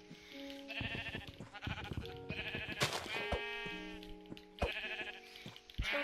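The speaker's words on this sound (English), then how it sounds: "I think I see a sheep right over there." Sheep in a survival video game bleat repeatedly, wavering calls that come close and loud in several bursts over a few seconds, with no talk.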